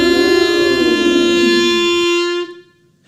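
A clarinet fitted with an attachment sounds one loud, sustained, buzzy horn-like note with a brief wavering start, held for about two seconds before cutting off.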